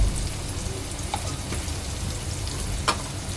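Chopped onion sautéing in hot oil for a Koli-style prawn curry, a steady close sizzle and crackle throughout with a couple of small clicks as asafoetida, turmeric and masala go in, no talking.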